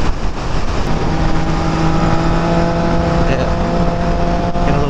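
A motorcycle engine drones steadily under engine braking on a fast group ride, a loud, continuous rumble with wind roar and shifting engine tones.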